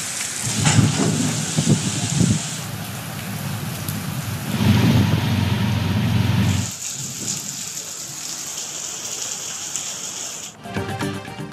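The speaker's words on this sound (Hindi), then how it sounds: "पंजाब के मुख्तलिफ शहरों में अब्र रहमत जमकर बरसा।" Heavy monsoon rain pours down on a city in Punjab, a loud continuous roar with surges and a brief shift in intensity, and no voices over it.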